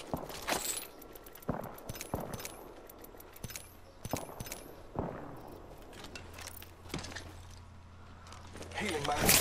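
Gunfire bursts from the video game Apex Legends, played on PS4: sharp, scattered shots and short volleys at irregular intervals, some loud and close, others lighter, with a rising burst at the end.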